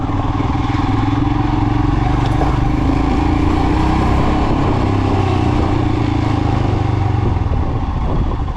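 A Royal Enfield Himalayan 411 motorcycle engine drones loudly and continuously while riding off-road, a close, rough thumping exhaust roar with slight rises in revs and mechanical clatter.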